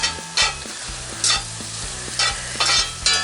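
Seasoned potatoes are stirred in a Blacklock cast iron skillet, with a steady sizzle and a few sharp scrapes and clanks of the utensil against the pan at irregular intervals.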